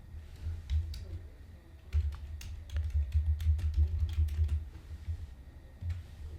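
Keys clatter on a computer keyboard in short bursts of quick, close typing, with brief pauses between runs.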